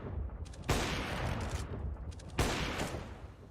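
Sustained automatic gunfire spam in a Counter-Strike esports match, dense rapid rattling shots with two sharp louder bursts, loud and continuous throughout.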